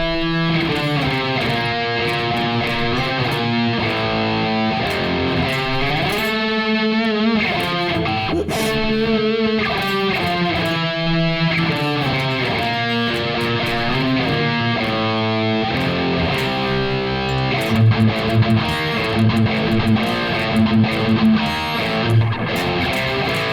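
Distorted electric guitar plays a riff at a slow practice tempo, chugging palm-muted notes and chord changes in a continuous, loud, steady stream with no voices.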